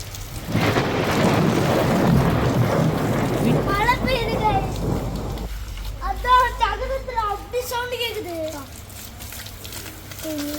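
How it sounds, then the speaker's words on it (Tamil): Heavy rain pours with rumbling thunder, loud and dense for several seconds before easing, while children's voices rise over it in the second half. "மழை பெய்யுது."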